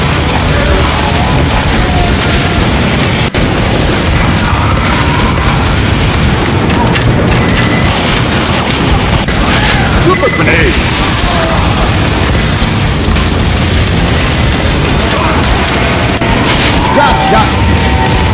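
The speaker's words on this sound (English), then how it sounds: "Grenade!" Repeated grenade blasts and booms in Team Fortress 2 combat, a dense, loud, continuous barrage of bursts and crashes mixed with game noise and shouted voices throughout.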